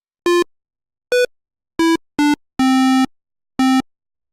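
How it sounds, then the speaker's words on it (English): Six short notes from a Roland SH-101 synthesizer on its default patch, bright buzzy tone, played at moderate loudness with gaps between them; the fifth note is held longer than the rest. "default SH-101. Let's play a few notes and hear our starting sound"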